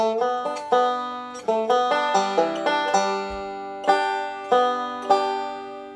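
A banjo plays the closing lick of the gospel tune I'll Fly Away, a quick run of bright plucked notes with a slide that settles onto a few sharply attacked, ringing final notes, played solo and up close.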